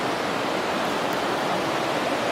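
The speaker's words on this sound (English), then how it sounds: "I slept to the sound of this river last night." Steady, full-band rushing of a river flowing past a campsite near Three Fingered Jack, a continuous close wash of water with no breaks and no voices.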